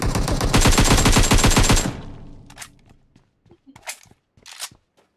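Automatic gunfire rattles in PUBG Mobile, a dense, loud rapid-fire burst lasting about two seconds, then fading into a few sparse, faint clicks and thumps.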